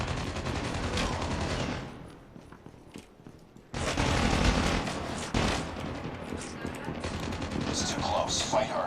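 Rapid automatic gunfire bursts from the Call of Duty Mobile video game, loud and dense, dropping away briefly before resuming heavily, with scattered shots and game effects afterward.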